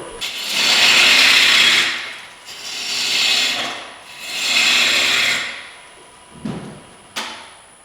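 A woodturning gouge cuts wood on a lathe in three long, loud scraping passes that swell and fade, followed by two short sharp taps, close by with no talking.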